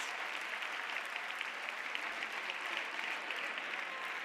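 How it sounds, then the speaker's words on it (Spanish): Steady applause for the Furious group at the Errenteria carnival troupe presentation, a dense crowd clapping evenly and fairly far off for the whole stretch, with no break and no voices on top. "Les damos un fuerte aplauso a Furious."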